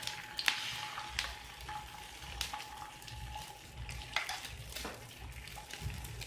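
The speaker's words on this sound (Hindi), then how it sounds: "अब हम इसको फ्राई करेंगे।" Shami kababs fry in ghee on a griddle (tawa), a soft continuous sizzle with occasional brief clinks and scrapes, close but quiet, without any talking.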